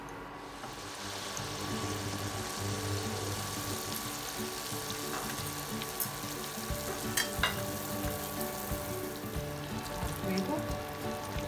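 Malpua fries in hot oil with a dense, continuous sizzle that stays loud and steady throughout, with occasional small crackles and bubbling.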